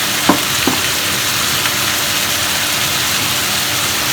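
Beans and carrots frying in a pan, a loud steady sizzle up close with a couple of quick clinks and scrapes of stirring near the start.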